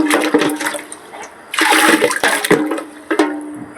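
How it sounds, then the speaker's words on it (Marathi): 19-19-19 fertilizer mixture boiling and bubbling as it is stirred near 100 degrees, with close, loud gurgling bursts and watery churning in several uneven surges. "पाहू शकता याचा आवाज मला खळखळ अशी उकळी येत आहे"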